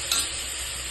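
Vegetables sautéing in a pan for egg kurma give off a brief, steady sizzle with a soft hiss throughout, fairly close and constant.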